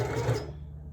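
A sewing machine stitching trim onto a folded fabric edge for a one-piece swimsuit, a brief close whirring burst that fades out within a second.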